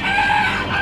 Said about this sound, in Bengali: 15টা দেশি মুরগি এগুলো?